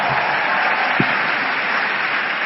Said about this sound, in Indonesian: yang tepuk tangannya kenceng, kasih rezeki yang melimpah ya Allah